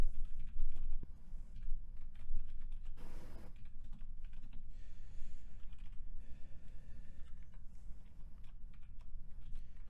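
JavaScript code being typed on a computer keyboard, a close, steady patter of light key clicks with a few brief pauses, quiet and without voices.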